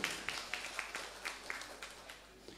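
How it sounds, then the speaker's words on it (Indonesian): Scattered applause for Bapak Sudibyo, a village head candidate in Wijirejo, after he draws ballot number one at a campaign event. A few hands clap faintly and unevenly in a roughly steady rhythm with distant room noise. "Tepuk tangan untuk Bapak Sudibyo."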